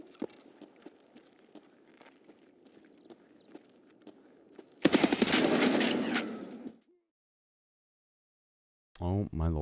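Video game gunfire from a Colt M16A2 firing in bursts: a dense, loud volley of rapid shots lasting about two seconds and then cutting to silence, preceded by quiet footsteps and light clicks, with a voice starting at the very end.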